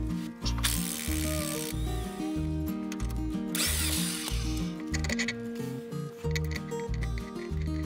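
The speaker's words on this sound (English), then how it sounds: "An 18mm socket and wrench were used on both the driver's and passenger side." Removing Jeep Wrangler JL shock bolts with a power driver makes loud, close whirring bursts in a stop-start rhythm. Ratcheting tool noise sits between the bursts, with no talk.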